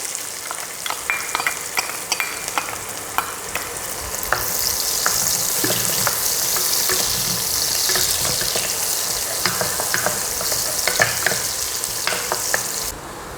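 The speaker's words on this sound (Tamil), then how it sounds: "எண்ணெய் காஞ்சிருச்சுங்க. இப்போ வெங்காயம்," Onions frying in hot oil while tempering for a vegetable kurma, a continuous close sizzle with scattered crackles and pops that grows louder after a few seconds, with no voices.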